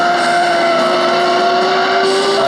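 Racing buggy engine in the Sega Dreamcast game Buggy Heat, a loud steady synthesized motor drone with sustained tonal whine, continuous throughout and without any talk.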